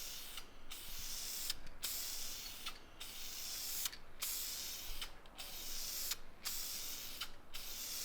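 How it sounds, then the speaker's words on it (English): Colour paint is sprayed onto an LS engine block in bursts of hissing spray, about seven roughly evenly spaced passes with short pauses between, close and fairly quiet, no voices. "just finish spraying the color"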